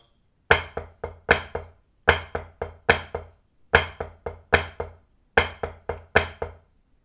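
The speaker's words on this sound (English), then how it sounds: "we're playing the first three notes of a flam accent" Crisp drum strokes in short repeated groups, the first three notes of a flam accent rudiment, each opening with a doubled grace-note hit, played four times with brief pauses between, close and clear.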